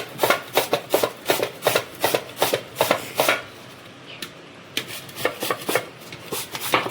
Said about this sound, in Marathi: आपण किसून घेऊया भोपळा